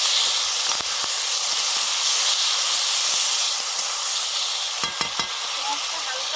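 Loud continuous sizzling of spices frying in hot oil, with black cumin, tomato and onion paste, a steady bright hiss with occasional clicks and scrapes of stirring.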